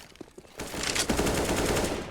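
Gunfire in Counter-Strike, heard as a rapid, loud burst of automatic shots that starts abruptly after a few faint clicks and keeps rattling steadily to the end.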